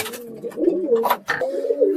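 Kaldom pigeon squabs cooing at home, soft repeated throaty coos in short overlapping phrases close by, with no talking.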